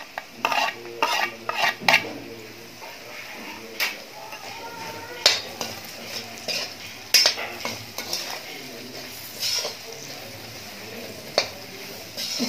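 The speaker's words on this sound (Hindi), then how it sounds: "इसको हम थोड़ा 1 मिनट तक मसालों के साथ चलाएंगे।" Spices roast in a pan for paneer angara, with quiet frying beneath intermittent clattering stirs and scrapes of a spoon against the metal, some in quick bursts; a voice speaks briefly.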